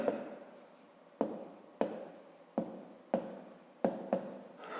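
A pen writes on paper up close, quiet scratchy strokes broken by about seven sharp taps as each new stroke starts, fairly evenly spaced.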